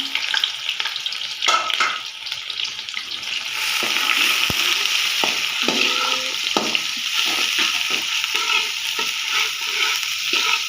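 Onions fry in a pan with a loud, steady sizzle, interrupted by scraping and clanking from stirring, close and continuous throughout while a Punjabi-style chicken rice dish is prepared.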